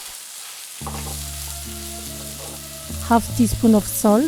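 Ground pork with onion and garlic frying in an oiled pan over high heat, a steady close sizzle under a voice giving instructions.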